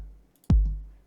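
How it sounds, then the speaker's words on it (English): A single original Roland TR-909 kick drum hit, punchy and loud, with a gritty mid-range attack and a low booming tail that fades out quickly, heard alone. "So the original 909 kick"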